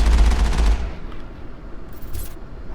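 A giant cannon fires at soldiers in the Mass Effect video game, one loud booming blast at the start that quickly decays into a lingering rumble and faint crackling debris.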